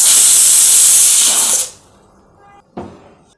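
Steam hisses loudly and steadily from a pressure cooker while bonda soup cooks, then cuts off abruptly, followed by a short quiet gap and one brief faint clank.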